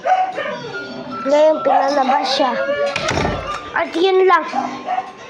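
A pet dog at home gives a few short yips and barks under close, continuous talking indoors, with a brief clatter partway through.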